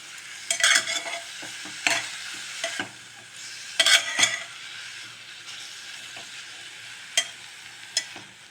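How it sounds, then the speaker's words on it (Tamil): Broccoli sautés in a pan for biryani, with soft sizzling under repeated scraping stirs and a few sharper utensil knocks against the pan. "நல்லா வதக்கி கொடுத்துடலாம்."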